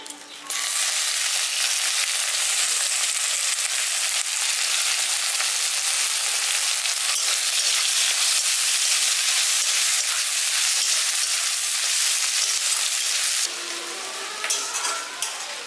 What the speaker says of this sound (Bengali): পেঁয়াজটা দিয়ে হালকা করে একটু ভেজে নিচ্ছি